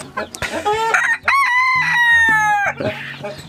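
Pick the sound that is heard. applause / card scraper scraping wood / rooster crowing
rooster crowing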